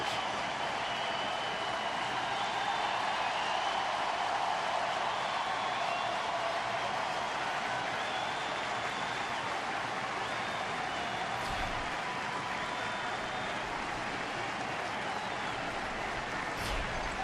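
Steady, dense applause from a large baseball stadium crowd at a Reds game, a broad continuous wash holding level for the whole stretch with faint murmur and a couple of brief sharper sounds near the end.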